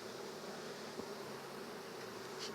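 Honey bees at a hive during a heavy nectar flow give a steady, faint, low buzzing drone that holds even throughout, with no talking.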